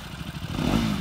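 A KTM Duke 200 and a Bajaj Pulsar NS 200 pull off at the start of a drag race, their engines revving and growling close by, rising in pitch and loudness toward the end.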